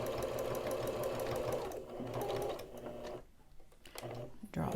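A sewing machine stitches a fabric face mask at close range, running in fast rhythmic bursts with a brief pause and a final restart, while a person talks over it.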